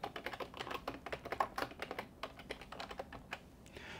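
Rapid typing on a computer keyboard while text is entered in 3D modeling software, a steady run of close, crisp key clicks with uneven rhythm and no speech.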